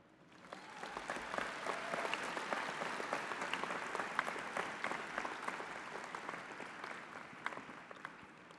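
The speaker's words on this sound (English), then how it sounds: "they deserve a clap" A commencement audience applauds steadily and densely, sustained for several seconds at a moderate distance, with no voices over it.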